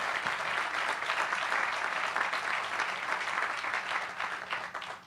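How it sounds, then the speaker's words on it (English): Another round of applause from the crowd at the Norton Sports & Learning Complex event in Louisville, a steady dense clapping from many people, moderately distant, fading out at the end. "How about another round of applause for work happening over there, huh?"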